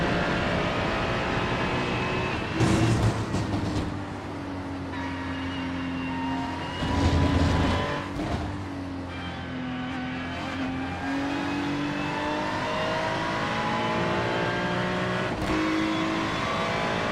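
Ferrari GT3 race car lapping the Red Bull Ring in Spielberg, Austria in a racing video game, a loud steady onboard engine note climbing and dropping through gear changes with brief bursts of tire noise, no talk.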